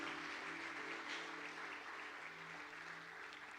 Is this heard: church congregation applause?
yes